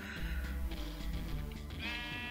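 A Minecraft sheep bleats in a modded survival game (FTB Ultimate), a clear bleat rising near the end over steady background music, alone with no talk.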